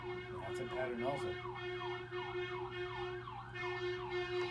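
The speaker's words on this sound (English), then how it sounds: "That was ambulance." An ambulance siren wails in a steady rising-and-falling cycle as it passes, loud and continuous over a low hum, with faint voices in the background.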